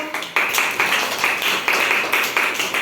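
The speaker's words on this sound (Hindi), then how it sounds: "ताली बजाओ" A primary school class claps in unison at a teacher's prompt, a rhythmic run of roughly eight sharp group claps in quick succession, close and fairly loud in a small room.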